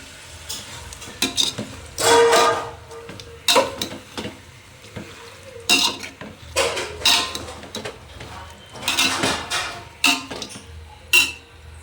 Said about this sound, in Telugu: ఒకసారి మొత్తం కలుపుకుందాం ముక్కలు